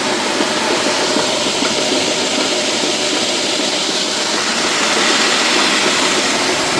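A grain bin spreader spins and scatters corn across the bin, giving a loud, steady, continuous roaring rush of machinery and falling grain with no breaks.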